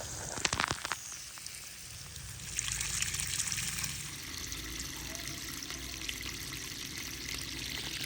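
Water flowing out while plants and a grass plot are watered in a Pakistani village, a continuous trickling, hissing stream with a few sharp knocks early on, no voices.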